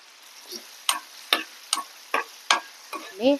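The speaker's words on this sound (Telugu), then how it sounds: "పోపు అయిందండి, పసుపు వేసుకుంటున్నా లాస్ట్కి." A tempering of spices for mustard-flour pulihora, with turmeric added last, crackles in a hot pan as sharp, isolated pops at a roughly even pace, about one every half second, against an otherwise quiet background.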